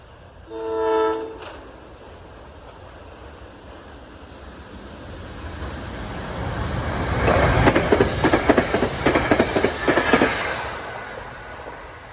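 Passenger train 6437 on the Hoboken to Gladstone line drawing into the eastbound platform at Mountain Station, opening with a short horn toot, then a rising rumble and rhythmic clickety-clack of wheels over rail joints as it nears.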